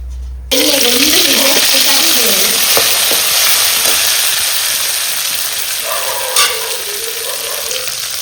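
Oil for mango pickle masala heats in a pan and sizzles steadily, a loud, close, continuous frying hiss with faint stirring, while someone talks over it.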